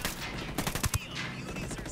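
Rapid gunfire cracks in a firefight in the video game Ghost Recon Wildlands, a quick cluster of sharp shots over steady background game noise.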